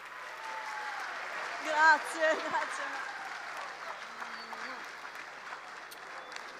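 An audience applauds a speaker as she is introduced at a space exploration talk. The clapping stays steady and moderate while a voice speaks briefly over it.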